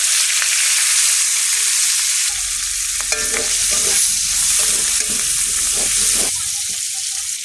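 Onion, garlic and green chillies hit hot oil that already holds dried red chillies, giving a loud, steady sizzle with repeated scraping and clattering of a stirring spoon throughout.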